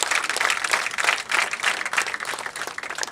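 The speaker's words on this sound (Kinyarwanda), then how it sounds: "Mumfasha dushimire umuyobozi w'umurenge." An audience claps for the sector leader at a closing ceremony in Kinyinya, Rwanda. The applause is full and sustained, with rhythmic surges of many hands and a faint murmur from the crowd.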